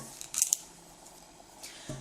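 Pinking shears for sewing and crafts make a couple of sharp, crisp cuts close by, quick snips followed by quiet handling and a softer click at the end.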